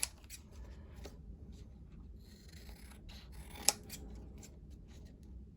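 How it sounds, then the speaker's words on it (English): Scissors snipping through a thick, glued junk journal tag, with close, crisp cuts and rustling paper over quiet room tone and one sharp click partway through. "because I'm actually cutting into the tag, I'm not really touching the glue with my scissors"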